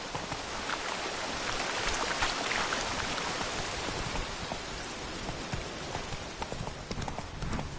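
Horse hooves gallop in a rapid steady clip-clop under a dense rain-like hiss in The Witcher 3, continuous and fairly close throughout.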